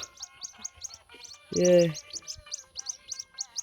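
Chicks of the white-breasted waterhen give rapid, repeated high chirps throughout, close by, with one brief louder gurgling low call near the middle.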